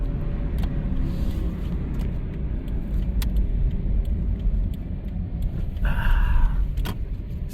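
A borrowed Subaru car heard from inside while driving, a steady low engine and road rumble running throughout with a few faint clicks and rattles.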